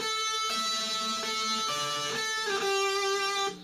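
A distorted electric guitar plays the main riff of a track from Sonic Colors: short, sustained, ringing notes that change pitch every half second or so, loud and alone.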